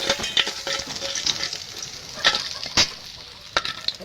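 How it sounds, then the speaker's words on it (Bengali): Koi and shing fish sizzle in a pan of oil, a close, steady hiss punctuated by occasional sharp pops and scrapes as the pieces are turned. "মাছটা ভেজে নেব।"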